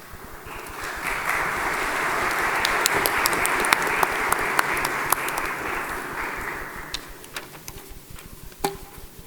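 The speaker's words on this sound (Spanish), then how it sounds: "me agrada mucho este aplauso" Audience applause at an international law seminar on Inter-American Court of Human Rights jurisprudence, greeting a judge; steady, dense clapping for about seven seconds that fades out, with no talk over it.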